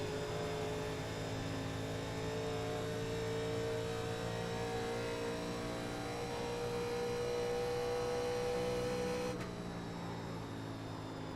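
An M-Sport Fiesta rally car engine in the iRacing video game holds a steady, loud high-revving drone with harmonic whine throughout, dropping slightly near the end, with no talking.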